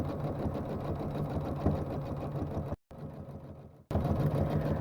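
A sewing machine runs steadily, stapling around the edges of a large quilt, with a fast even mechanical chatter up close that drops out briefly and then resumes with no voices.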